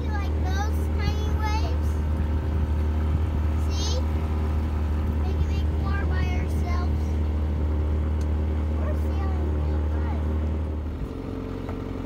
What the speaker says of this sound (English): Nothing like a two-cycle engine.